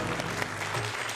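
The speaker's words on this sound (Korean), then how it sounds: "자, 박수 받아야겠죠?" Audience applause following a magic trick, a dense steady burst of many hands clapping that holds at an even level throughout the short stretch.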